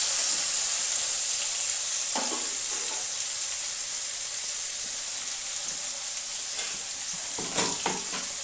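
Potatoes fry in a pan with a constant bright, hissing sizzle that stays even throughout, broken by a few faint clinks near the end and no talking.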